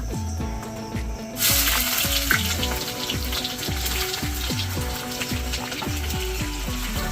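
Chopped onions go into very hot oil with cumin for a home-style chicken curry, bursting into a loud, sustained hissing sizzle after a quieter start, with a rhythmic background tune playing throughout.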